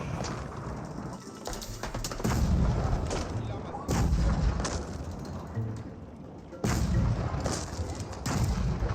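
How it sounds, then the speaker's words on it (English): Culverins in Age of Empires 4 fire on an outpost, with repeated heavy booming cannon blasts and crashing impacts. A dense din of battle sounds runs between the shots, and the volume jumps with each new volley. "Outpost taking some shots here from the culverins."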